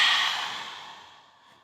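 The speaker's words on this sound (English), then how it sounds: "Take a big open mouth breath out here." A big open-mouth exhale during a yoga flow, a single loud breathy sigh that fades out steadily over about a second and a half, up close with no talking.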